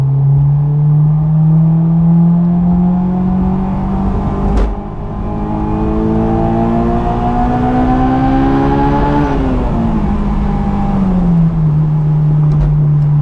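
A Honda S2000 with an HKS Hi Power catback exhaust revs steadily, pitch climbing slowly through the range, then dropping back, loud and close with a brief dip midway.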